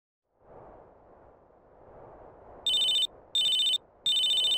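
A mobile phone rings in GTA San Andreas, three loud electronic bursts of a repeating tone near the end over a low rumbling game background.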